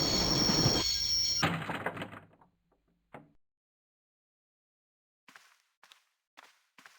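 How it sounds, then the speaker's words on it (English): Train grinding to a halt in the Broken Sword point-and-click adventure game, a loud rumbling squeal of wheels that fades out over two seconds, followed by a brief clank and a few faint, sparse clicks. "I'd always wanted to stop a train. And now was my chance."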